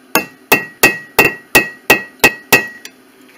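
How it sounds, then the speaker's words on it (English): A hammer peens metal on an anvil with eight crisp, steady strikes at a brisk rhythm, each hit close and loud with a short ringing decay. "Just peen it a few times"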